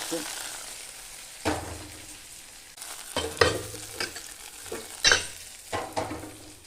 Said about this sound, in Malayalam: വറവ് ചേർത്തു നന്നായി ഇളക്കിയെടുക്കാം